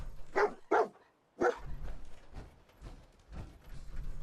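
A dog barks in the video game Fallout 4: three sharp, loud barks in quick succession, followed by quieter muffled game ambience and footsteps.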